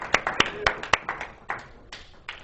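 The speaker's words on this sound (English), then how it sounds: "let's give him a round of applause" A small audience gives a round of applause for a champion, a handful of distinct, fairly close individual claps in an uneven rhythm rather than a dense roar, with faint murmuring underneath.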